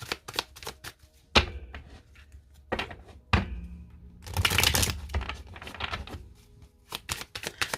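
Tarot cards laid down one after another on a table to cover a card in a spread, a series of sharp, distinct taps and soft slaps with a brief shuffling rustle in the middle, close and fairly quiet, no talking.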